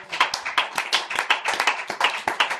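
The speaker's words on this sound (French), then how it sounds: "on peut acclamer pour le Seigneur" A church congregation claps for the Lord in quick, rhythmic unison, loud and close, with sharp regular hand claps and no voices over them.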